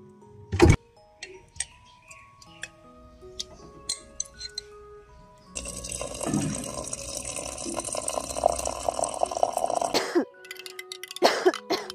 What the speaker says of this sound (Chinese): 怎么还在咳？